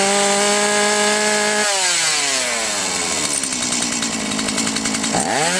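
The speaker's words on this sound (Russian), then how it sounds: "И пила снова в рабочем состоянии" A Stihl chainsaw engine, running again after failing to start, runs close by, revving high, dropping back, then climbing again in a loud, buzzing whine with no voices.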